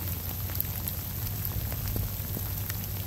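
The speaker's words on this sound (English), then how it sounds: "And it's raining." Steady rain falling outdoors during a late-season muzzleloader deer hunt in Iowa, a continuous soft patter with scattered droplet ticks and a low rumble of wind underneath.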